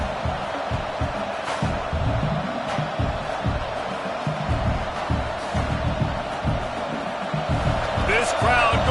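A football stadium crowd roars and murmurs continuously under a commentator's voice, with a few sharp thuds and bangs standing out from the steady din.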